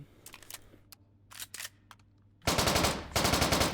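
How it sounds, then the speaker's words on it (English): An MPL submachine gun fires in a video game with short bursts of rapid shots, then a long loud sustained burst near the end, with no talking. "I fucking love this gun, dude. I love it so much."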